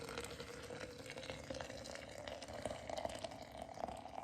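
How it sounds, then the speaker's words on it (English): Hot water is poured over a few pinches of herbs to brew tea, a continuous close trickling and splashing stream with small bubbling and dripping detail, quiet and steady from start to end. "then I pour hot water"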